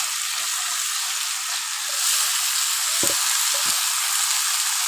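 Banana flower drops into a hot pan and fries with a steady, loud sizzle, with a couple of soft stirring knocks partway through.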